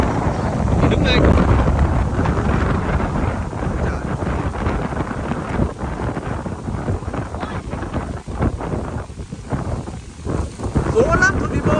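Strong wind gusting at an outdoor spot, heard as loud, continuous buffeting roar against the microphone throughout, rising and dipping in waves, with people talking faintly underneath.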